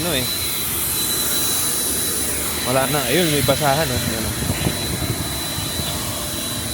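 A car wash vacuum runs as a steady, loud whoosh throughout, with people talking over it partway through.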